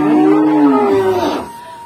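A cow moos once, loud and close, in a long drawn-out low call that fades at the end, on a cattle-keeping hillside farm village in Dusun Bojong, with no one talking.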